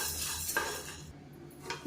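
A spoon scrapes and stirs dry black urad lentils and red rice roasting in a pan, rattling and clinking in short strokes, close and fairly quiet.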